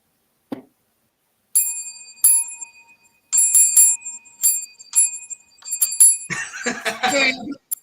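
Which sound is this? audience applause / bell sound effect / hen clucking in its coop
bell sound effect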